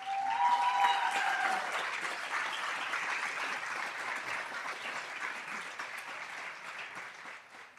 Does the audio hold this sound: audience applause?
yes